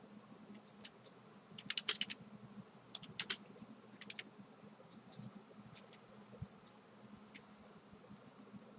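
Keys on a computer keyboard are tapped in short bursts, faint clicks bunched into quick clusters separated by pauses, over a low steady background hum, with no talking.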